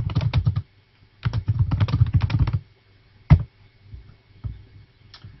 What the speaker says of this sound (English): So I've just typed in a bit of text there to replace the initial part.